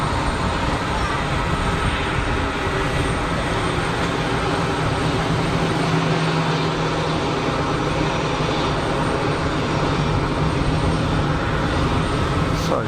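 A brand-new British Airways A320neo airliner at Geneva Airport, its loud, continuous engine roar filling the scene at steady strength and swelling slightly near the end.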